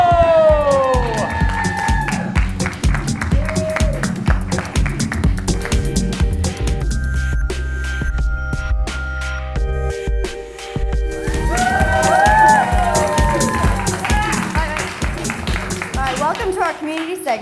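A live audience at a downtown Las Vegas podcast taping claps and cheers loudly and steadily, with whoops and shouts in a reverberant room and some speech mixed in.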